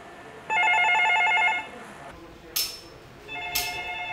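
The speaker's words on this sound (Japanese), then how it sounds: "電話鳴りやつぞ" An office telephone at a police station rings in two repeated electronic bursts, fairly close, with short gaps and faint background noise between rings.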